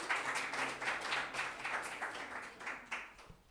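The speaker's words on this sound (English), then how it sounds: "Give him a round of applause as he comes up" Audience at a real-estate sellers seminar applauds steadily as a speaker comes up, moderate, even clapping in a room with a faint low hum underneath.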